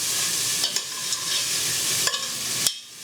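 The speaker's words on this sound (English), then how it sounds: "Now we're just going to stir them until they're nice and soft." Vegetables with black pepper cooking in a pot for marinara sauce, giving a loud, steady sizzle with a few distinct spoon scrapes while being stirred, alone without talk.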